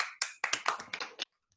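A small group of people claps briefly nearby, about eight sharp, fairly quiet claps in an uneven run, followed by silence.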